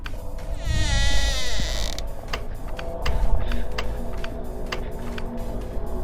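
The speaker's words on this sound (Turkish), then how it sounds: "Aa kapıyı kapıyı açıyor kapıyı açıyor." A door creaks open with a long, loud rising groan inside the Roblox horror game The Intruder, followed by scattered ticking and clicking mechanism sounds against a low background rumble.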